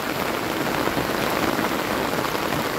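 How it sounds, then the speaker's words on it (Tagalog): Heavy rain pours down steadily and loudly, a dense, unbroken hiss of drops drumming on surfaces close by, with no voices over it. "Grabe po lakas ng ulan."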